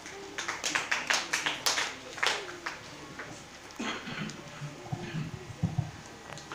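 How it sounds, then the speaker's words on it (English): A church congregation claps together in a burst of quick, rhythmic applause that fades after a few seconds, followed by talking and a few scattered taps in a reverberant hall. "Clap your hands for yourself."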